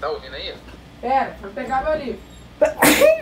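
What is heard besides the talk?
sneeze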